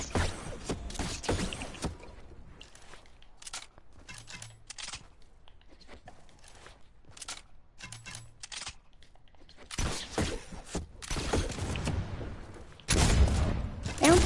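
Gunfire rings out in a shooter video game, with rapid bursts and single cracks coming in clusters across the clip. Some stretches sound louder and denser than others.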